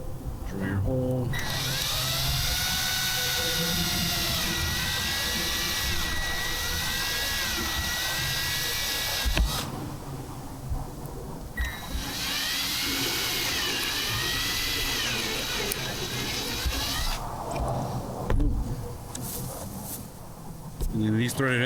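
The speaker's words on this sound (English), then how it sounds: "Drill your hole." A power drill bores holes for threaded inserts while fitting a roof vent on a vintage camper, whining in two long bursts with a pause between, close and loud, with someone talking.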